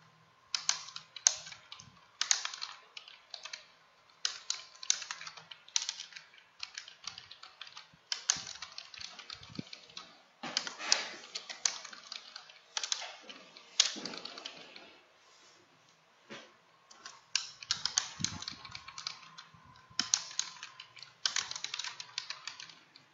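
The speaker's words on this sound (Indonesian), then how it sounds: "langsung saja kita ketik komentarnya" Typing on a computer keyboard while entering footnote text in a document, steady bursts of close, crisp key clicks separated by short pauses, with no talking.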